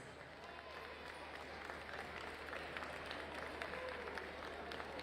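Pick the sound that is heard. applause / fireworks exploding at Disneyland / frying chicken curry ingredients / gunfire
applause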